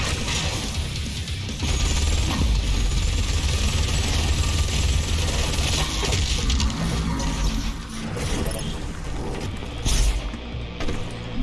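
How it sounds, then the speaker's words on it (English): A video game's bright ping sounds with each double jump, sharp and high-pitched, set over a dense, continuous bed of game noise and music that stays loud throughout. "So like the ping when I double jump like this is crazy high pitched."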